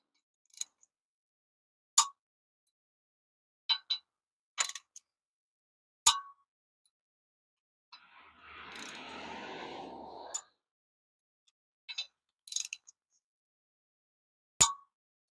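Sharp, isolated metallic clicks from a torque wrench tightening bolts on a vehicle drivetrain, about ten spaced clicks in a quiet space, with a brief hissing or rustling burst midway.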